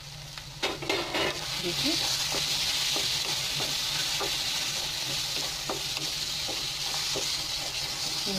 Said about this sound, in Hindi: ये मसाले कितने अच्छे से भून रहे हैं